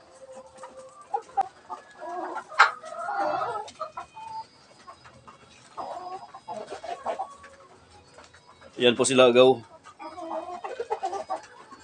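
Chickens, Basilan-cross roosters and hens, cluck and murmur nearby in short, scattered bursts, with one louder squawking call near the end, while someone speaks quietly between the calls.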